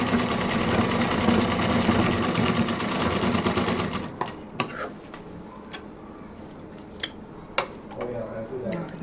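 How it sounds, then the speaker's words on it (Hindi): A sewing machine stitches seams on a homemade folding tour bag, its fast steady mechanical whir running for about four seconds, then stopping and leaving scattered clicks and handling noises. "अब ये हम दूसरा एरिया भी सिल देते हैं।"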